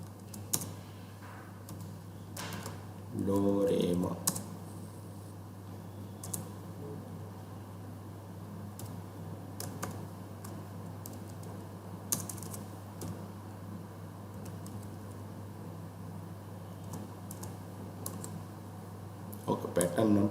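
Keys clatter on a computer keyboard in scattered light taps and short bursts, with someone talking over them throughout against a low steady hum.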